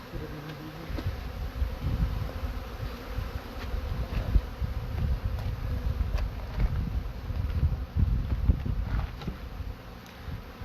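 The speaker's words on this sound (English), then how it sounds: "get some close up to the bees" Dense, steady buzzing of many honey bees close by at a five-frame nuc hive, a continuous droning hum with faint wind in the background.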